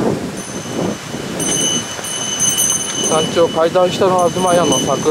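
Heavy rain with big raindrops falls in stormy, windy weather on a hilltop with cherry blossoms. It patters and hisses continuously while someone talks over it.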